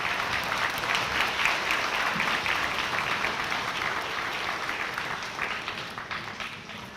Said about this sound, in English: let's hold the applause till the end